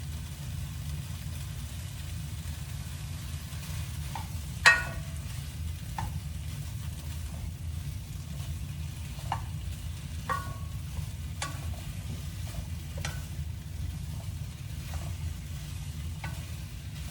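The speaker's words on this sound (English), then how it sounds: "now we're going to go into that pan with our sausage just to get that browned up and delicious" Sausage browning in a pan, a constant low frying rumble with scattered sharp spatula clicks and scrapes, heard alone without any talking.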